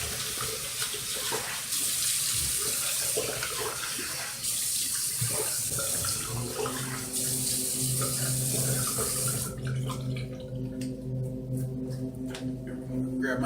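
Tap water runs into a sink for a rinse after shaving a head, a steady close stream that splashes and shifts as hands move through it, then stops near the end.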